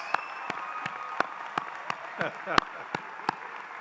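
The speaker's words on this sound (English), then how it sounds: "Let's start off with our first round of applause." Sharp, evenly spaced single claps ring out about every third of a second from a commencement audience at a pharmacy college graduation ceremony, with light crowd murmur underneath.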